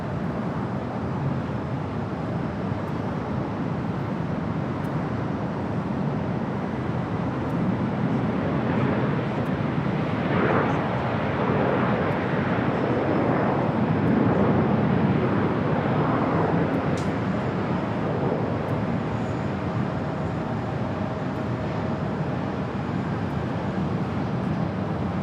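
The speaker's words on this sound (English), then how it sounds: "We do have Delta Airlines flight 1795 coming from Houston, Texas, an A319 next arrival here on the north side." Delta Airlines Airbus A319 jet arriving at Los Angeles LAX on the north side: a steady, broad roar that swells gradually toward the middle and stays loud and sustained throughout, with no talk.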